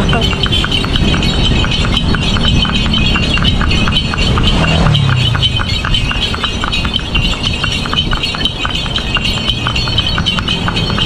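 A horse pulls a delman carriage at a run in Bantaeng, South Sulawesi, its hooves clip-clopping in a quick steady rhythm under loud road and wind noise.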